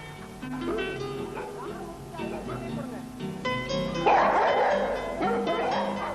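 Several Rajapalayam dogs bark and yip repeatedly, close by, with overlapping excited barks and a whine.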